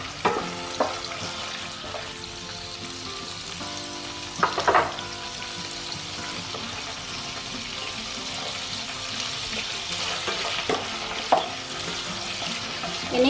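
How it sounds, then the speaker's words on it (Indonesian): Bone-in chicken pieces sizzle steadily as they are stir-fried in a hot pan, with occasional scraping and stirring clatters rising above the continuous frying hiss. "Ini kalau sudah panas, kita tumis daging ayamnya."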